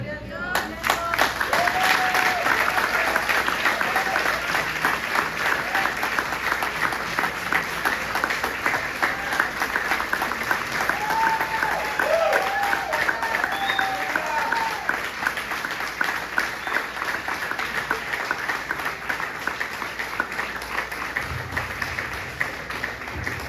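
A church congregation applauds during a service, a dense, steady wash of clapping that stays loud for the whole stretch, with voices and a few shouts rising through it.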